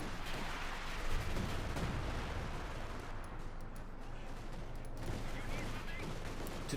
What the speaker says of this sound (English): They're taking damage from the Vickers machine gun.